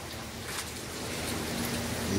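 Rain falls outside a house in Saudi Arabia, a soft continuous hiss of drops that stays fairly faint and even throughout, with no voices.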